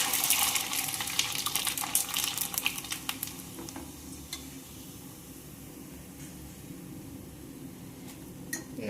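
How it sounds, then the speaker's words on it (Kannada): Fenugreek leaf papad frying in hot oil gives a loud, dense crackling sizzle at first that settles into a steadier, softer hiss, with a few sharp pops near the end. "ಈಗ ಫ್ರೈ ಮಾಡ್ಕೊಂಡು ಹಪ್ಪಳ ಹಾಕ್ತೇನು."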